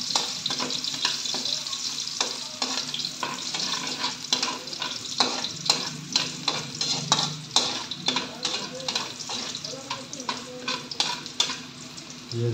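Ginger sautéed in a pan while cooking duck adobo, a steady sizzle broken by repeated rhythmic scraping strokes of a spatula, close and fairly loud.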